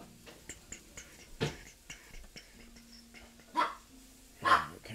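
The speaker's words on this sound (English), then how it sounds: "Sorry about the dog." A dog barks two or three times at a distance, faint and spaced apart, with light ticking and tapping sounds in a quiet room.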